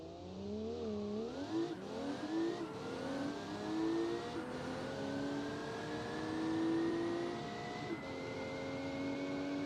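Porsche 911 racing and accelerating, a loud engine note climbing steadily through several gear changes with brief dips between shifts, sustained and close.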